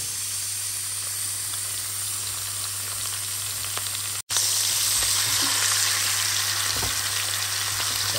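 Pieces of rabbit brown in a hot pan for rabbit in cream sauce. A steady, close sizzle and crackle of frying fat runs throughout, broken by one very brief dropout partway through.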